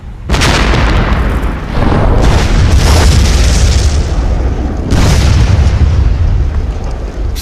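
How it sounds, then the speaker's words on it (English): Defenders blowing a bridge during a Vietnam War tank battle, a loud roaring explosion followed by sustained rumbling blasts and a second heavy boom, close and dominant. "The defenders blow the bridge."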